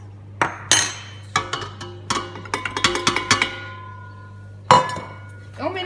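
A utensil stirs flour into cookie dough in a bowl, giving a string of sharp clinks and knocks against the bowl at an uneven pace, close up, with no talking.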